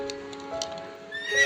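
A horse gives a short, high, wavering neigh that rings out clearly and alone, with a faint breathy edge at the end.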